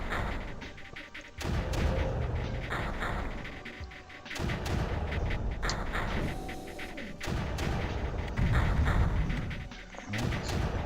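Guns firing in the Creeper World strategy game, a series of heavy booming shots in repeated bursts with short pauses between them, loud and up close.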